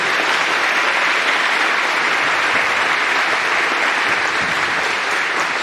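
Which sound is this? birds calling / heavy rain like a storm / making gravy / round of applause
round of applause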